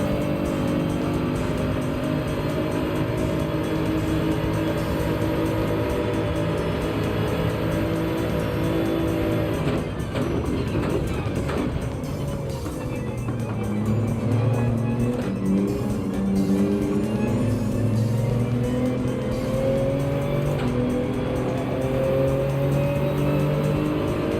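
Race car engine from Gran Turismo 7 at Willow Springs, droning steadily throughout with pitch rising and falling through gear changes and corners, loud and continuous with no talking.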